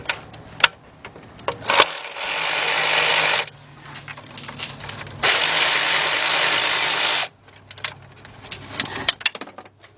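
A big 3/8-drive ratchet with a 4-inch extension and T30 Torx bit works a starter bolt loose on a BMW. Two sustained bursts of rapid, loud ratcheting stand between scattered tool clicks and knocks, with no speech.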